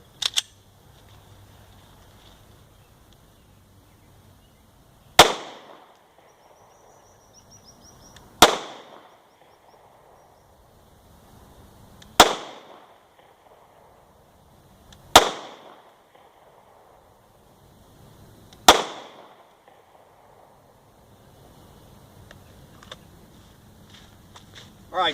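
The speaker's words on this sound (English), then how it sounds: "I'm going to do 5 rounds at 5 yards, 5 at 10, and 5 at 15, shooting at the same spot" Five evenly spaced shots from an HK VP9sk pistol fired at a target on a range, each a sharp, loud crack with a short decay, separated by three to four seconds of near quiet.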